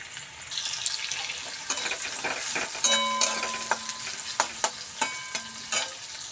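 Sliced onions sizzle steadily in a pan while being stirred for pasta, with a continuous hiss broken by repeated sharp scraping and clinking of the spoon against the pan, close and fairly loud.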